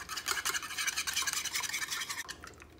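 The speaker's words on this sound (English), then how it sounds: "I'm gonna add some salt and break the yolks and whisk it." Eggs with salt are whisked with a fork after the yolks are broken, a quick, close, steady scraping rattle with no talk.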